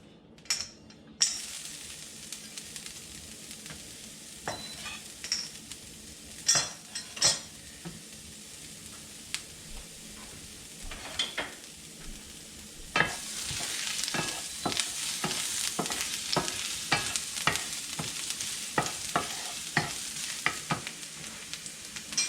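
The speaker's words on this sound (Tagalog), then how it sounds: "So, maggigisa na tayo." Ginger sautéing in hot oil for a stir-fried eggplant dish, a steady close sizzle with scattered scrapes and clinks of a utensil stirring in the pan, getting louder and busier in the second half.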